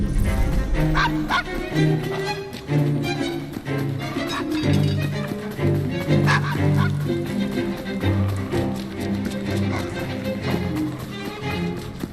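A dog in the video game Assassin's Creed Syndicate barks repeatedly in quick yapping bursts, loud and close, layered over steady music.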